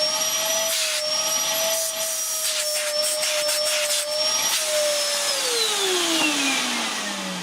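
A vacuum cleaner with strong suction runs loud and steady up close, its high motor whine holding level before the pitch sinks steadily near the end.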